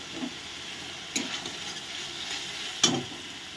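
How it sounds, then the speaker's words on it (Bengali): Turmeric, chili powder and salt frying as a spice masala for rui fish curry, with a continuous close sizzle and hiss punctuated by three distinct scraping stirs in the pan. "লবণ ভালো করে মশলাটাকে কষিয়ে নেব"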